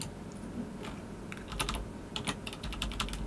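Computer keyboard keys are pressed while switching brushes and resizing with the square bracket keys in Photoshop, giving a quiet irregular run of close clicks, sparse at first and then quicker taps over low room hiss.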